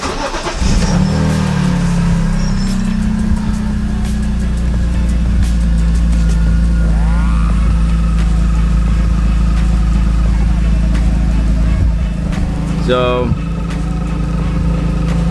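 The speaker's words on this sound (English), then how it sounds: "This is OEM S54 exhaust minus the muffler." A BMW E36 with a swapped S54 engine idles cold through its OEM exhaust with the muffler removed, a steady deep drone throughout, with a brief rev-like rise near the end and someone talking over it.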